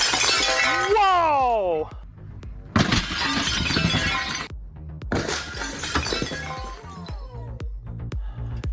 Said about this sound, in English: smashing the toilet was going to be harder than it was